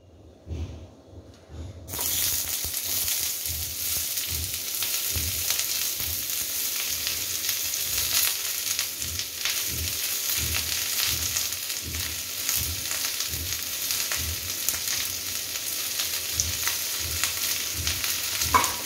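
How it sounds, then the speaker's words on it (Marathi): Onion frying in oil in a home kitchen pan, a steady loud sizzle and crackle after a brief quiet start, with regular scraping stir strokes throughout and no talking. "आता टाकायचं कांदा"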